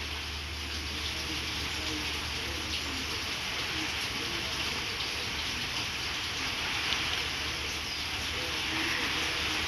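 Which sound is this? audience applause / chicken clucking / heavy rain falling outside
heavy rain falling outside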